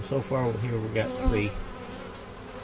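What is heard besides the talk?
honey bees buzzing around an open hive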